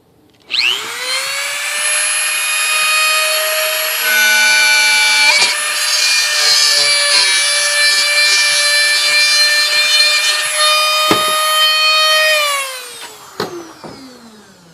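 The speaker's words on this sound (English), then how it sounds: "So you can use the same Dremel and simply make a hole." A Dremel rotary tool cuts a hole in a motorcycle headlight reflector, with a loud, bright whine that rises to full speed and holds steady for about twelve seconds. It grinds against the plastic, then spins down and ends with a few knocks.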